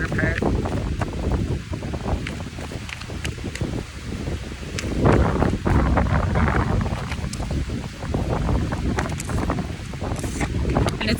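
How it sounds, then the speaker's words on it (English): Strong wind on a very windy day buffets the microphone outdoors with loud, gusty rumbling and rustling, peaking midway, while a person talks intermittently underneath. "And it's a very windy day,"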